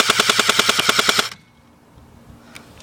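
A Cybergun M1A1 airsoft gun fires a rapid full-auto burst of about a dozen sharp, evenly spaced mechanical shots, loud and close, then stops abruptly into near silence.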